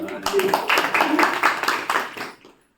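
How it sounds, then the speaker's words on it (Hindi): A small group claps in rhythm during a Brahma Kumaris class session, about a dozen distinct claps over two seconds before fading into silence, with some voices in the background. "ताली बजा दो भाई"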